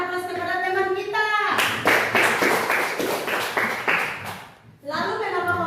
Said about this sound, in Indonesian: Berikan aplaus kepada teman kita.